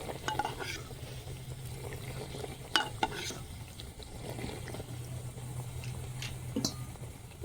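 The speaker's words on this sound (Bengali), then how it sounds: "পরোটা ভাজা হয়ে গেছে" Paratha fries in oil in a pan for a Dhaka-style paratha, a faint steady sizzle with occasional light clinks of a utensil, no talking.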